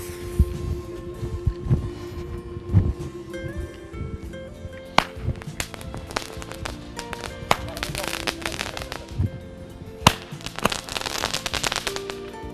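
Tornado Roman candle fireworks fire outdoors in a rapid series of sharp cracks and pops, with crackling bursts and louder bangs clustered through the middle and end.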